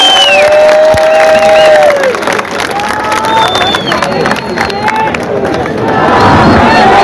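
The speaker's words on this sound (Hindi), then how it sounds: "तो एक जोरदार तालियां अपने खुद के लिए बजा दीजिएगा।" A large crowd at a political rally in Aurangabad claps and cheers loudly, with whistles and shouts rising over dense applause throughout.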